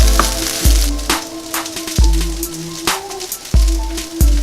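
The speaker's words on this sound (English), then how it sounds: "you also want to scrape the bottom to make sure you're not burning your rice" Fried rice sizzles steadily in a hot pan while a utensil scrapes the bottom in repeated sharp strokes, close and loud with a constant crackling hiss underneath.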